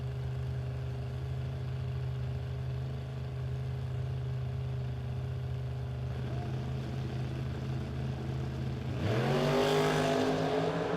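Drag race cars at a No Box 660 shootout, including a 1967 Camaro, idle with a loud steady engine drone before one launches into a sudden roaring rev that climbs sharply in pitch, close and loud.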